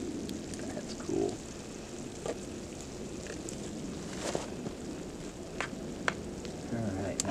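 Steak sizzles on a wood-burning EcoZoom Versa stove outdoors in winter, a continuous crackling fry with scattered sharp pops from the burning wood.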